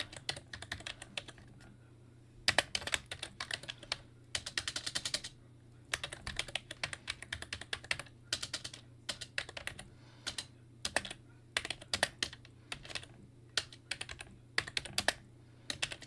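Close-up typing on a computer keyboard in a home setup, with irregular bursts of rapid key clicks separated by short pauses over a low steady hum, no voices.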